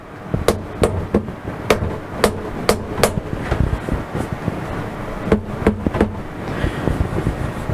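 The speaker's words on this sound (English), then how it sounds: "you use a plastic or a rubber or leather hammer to do that" A soft-faced plastic, rubber or leather hammer taps material down in a CNC milling machine vise, giving a series of sharp, close knocks in irregular clusters, with a few faint quieter taps between.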